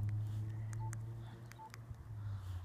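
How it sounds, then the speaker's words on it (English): An Iridium 9555 satellite phone gives a series of short, separate keypad dialing tones, close and clear over a low steady hum. "when you dial this number"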